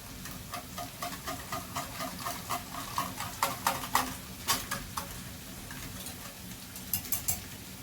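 Chicken being stirred in a pan for a spaghetti dish with mushrooms and white sauce, a series of rhythmic scraping strokes with a faint sizzle underneath, close and moderately loud.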